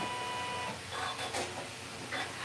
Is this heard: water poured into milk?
no